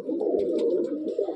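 A Madrasi pigeon coos close up, a continuous throaty burbling rolling without a break, with faint rustling above it.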